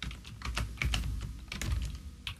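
A name is typed on a computer keyboard in a quick, irregular run of close, clicky keystrokes over about two seconds, with no talking.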